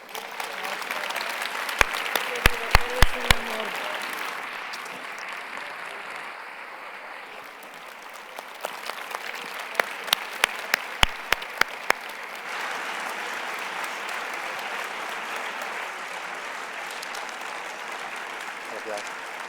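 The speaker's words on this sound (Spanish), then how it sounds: "a quien les pido que despidamos con un aplauso muy grande" A literary conversation audience applauds author Cristina Rivera Garza, producing a steady wash of many hands clapping at moderate level, with a few sharp, louder individual claps standing out near the start and midway, and faint voices mixed beneath.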